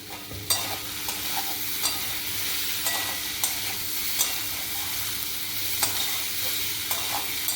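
Elephant foot yam curry sizzling in a pan while a utensil stirs and scrapes it, with regular sharp clacks against the pan over a steady close frying hiss.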